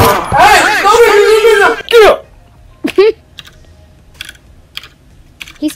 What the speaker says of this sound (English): He's typing, guys.